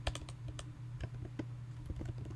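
Someone types on a computer keyboard at a steady pace, making quiet, close-up clicks and taps with brief pauses and no talking.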